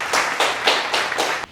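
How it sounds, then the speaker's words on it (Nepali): A brief burst of audience applause welcoming speaker Rajan Ghimire at a storytelling event, a handful of distinct clapping pulses at a steady rhythm, moderately close and unaccompanied by talk. "आउनुस् जोरदार तालीका साथमा स्वागत गरौं हाम्रो"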